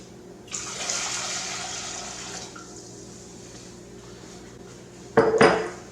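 Water poured from a container back into a pot after soaking a backpacking knife in a mustard, vinegar and alcohol mix, a splashing pour for about two seconds, then a short metallic clatter of the pot near the end.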